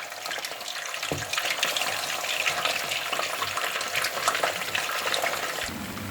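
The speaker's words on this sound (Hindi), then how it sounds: "अब इसमें मैं चिकन लेग पीस डालती हूँ। इसको हम फ्राई कर लेते हैं।" Chicken leg pieces sizzle steadily in hot oil for namkeen chicken karahi, a dense continuous hiss and crackle at even loudness with one brief clink near the start and no talking.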